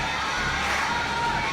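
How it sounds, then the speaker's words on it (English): A massed crowd war cry in the Fate/Grand Order game, many voices roaring together in one steady, loud, unbroken wall of shouting. "Never heard so much synchronized shouting."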